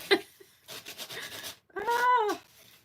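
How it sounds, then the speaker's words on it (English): An electric nail sander rubs across a painted, gold-foil-embossed craft surface in a short raspy burst, followed by a brief drawn-out vocal groan. "This is just a nail sander thing."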